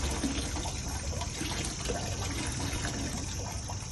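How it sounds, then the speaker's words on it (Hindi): Clean water pours steadily into a container being weighed for an M25 concrete mix trial, a constant gushing splash that continues without a break and without talk. "अब पानी का भी वेट कर लेते हैं।"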